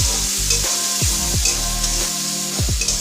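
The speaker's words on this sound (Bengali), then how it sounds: "এটা ভালো করে কষিয়ে নেব।" Fish curry masala being stirred and sautéed in a pan, a continuous loud sizzle and frying hiss broken by repeated scraping strokes of the spoon against the pan at a steady rhythm.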